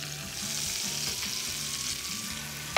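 Salmon fillet pan-searing in oil, with oregano in the pan, gives a steady, close hiss and crackle of sizzling, unbroken from start to finish, ending in a brief sharp clatter.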